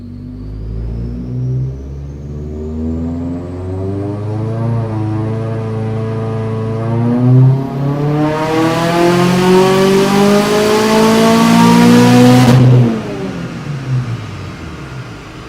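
A Woolman 2.5L engine on a G30-770 turbo setup revs up steadily on a dyno pull, its pitch rising over about twelve seconds to a loud roaring peak before cutting off and falling away.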